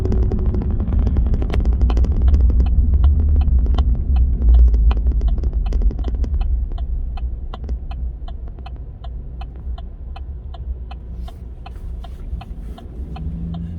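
A car drives along a road and turns, its engine and tyre rumble steady and close, with a regular ticking like a turn signal becoming clear as the rumble eases.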